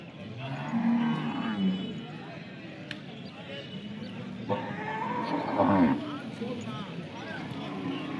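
Cattle mooing at a village cattle market in Salem, with several low bellows over ongoing crowd chatter and nearby voices.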